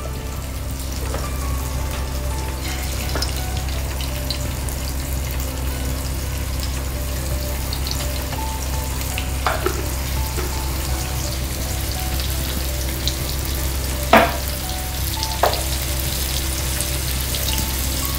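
Semolina-coated bombil fish shallow-fry in oil over a medium flame, a steady even sizzling hiss with a few faint taps and clicks, close and unbroken, with no voices.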